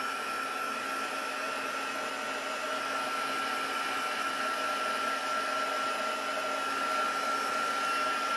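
A hair dryer blows a loud, steady whine without a break, close up, while it dries watercolor paint on a handmade card.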